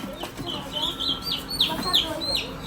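Chicks cheeping in repeated high, rising chirps, several overlapping, close by, with faint background voices and shuffling.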